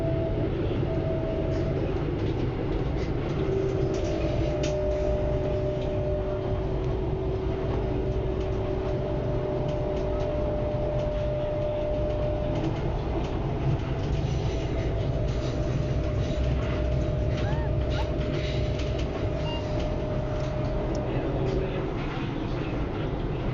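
Pune Metro train running on the elevated line after leaving the underground section, a continuous loud interior rumble with sustained motor whine tones, heard from on board.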